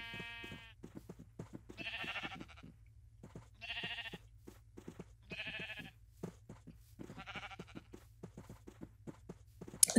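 Sheep in a blocky survival game bleat again and again in short wavering calls at a steady rhythm, with soft footstep clicks between them and no talking.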